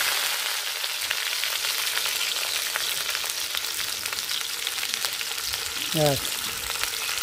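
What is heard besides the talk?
potatoes frying in hot oil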